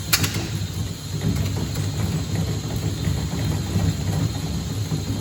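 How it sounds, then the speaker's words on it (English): Steam engines in an energy room run on compressed air instead of steam, giving a steady mechanical clatter and rhythmic chuffing with ticking gear noise, fairly loud and continuous with no talk. "We're running these things on compressed air, not steam."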